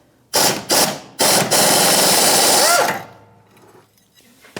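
A 3/8-inch impact gun working on the rear stabilizer link of a 2015-2024 Jeep Renegade: two short loud rattling bursts, then a longer sustained hammering run that winds down and fades.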